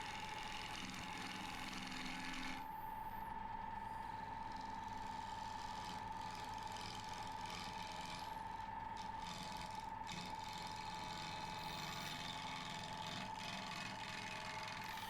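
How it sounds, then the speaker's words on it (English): Elm lamp base being turned round on a lathe with a 40/40 bowl gouge at 1400 RPM, a steady high whine from the spinning wood with continuous rough scraping and chatter of the cutting edge, close and loud with no talk. "with the 40/40 bowl gouge spinning at 1400 RPM, we're going to very quickly get it into round"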